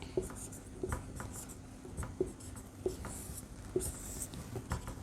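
A pen writes out a Lewis dot structure for ammonium chloride, producing faint, soft scratches and light taps on paper in an irregular rhythm, close to the mic in a quiet room.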